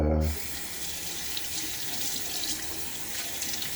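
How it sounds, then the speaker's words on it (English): Tap water runs steadily into a sink, rinsing a shaving soap tin during a wet shave, a close, continuous hiss and splash that starts after a brief moment of low voice. "just rinsing off the tin here"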